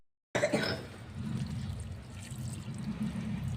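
Water poured onto vegetable plants growing in a tub at home: a steady, fairly faint splashing and trickling that starts abruptly and runs continuously.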